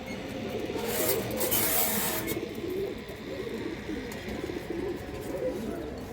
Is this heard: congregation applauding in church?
no